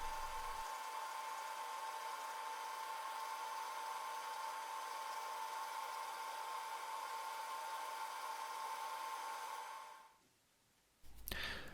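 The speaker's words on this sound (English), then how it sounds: "the final rounding off of the popper will be done with a Dremel tool" A Dremel rotary tool rounds off a wooden popper lure, giving a steady high-pitched whine with a grinding hiss that holds nearly constant for about ten seconds before cutting out, then a brief burst at the end.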